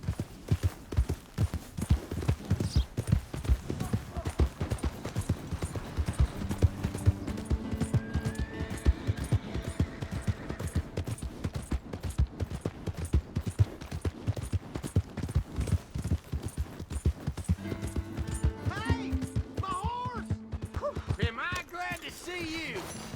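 Steady horse hooves clip-clop at a walking rhythm in the video game Red Dead Redemption 2, close and fairly loud, with occasional game-like tones and snorts mixed in.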